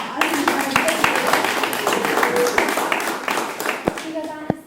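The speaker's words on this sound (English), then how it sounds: "Okay, another round of applause" Members at a monthly community meeting give a short round of applause, many hands clapping in a dense patter while voices carry on talking over it.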